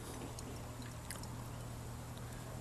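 Beer poured from a 16-ounce can of Tallgrass 8-Bit Pale Ale into a 12-ounce glass, a steady soft trickle and fizz running continuously over a low background hum.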